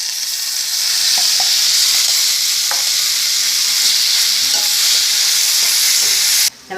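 A brinjal mixture fries in hot oil in a kadai after mustard seeds have crackled, giving a loud, steady sizzle with light stirring clicks throughout, then cutting off abruptly at the end.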